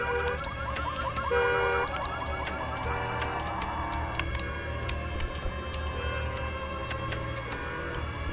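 Police car siren in the horror video game Northbury Grove, a steady wailing tone held for the full stretch amid layered game ambience, fairly loud and with no talk over it.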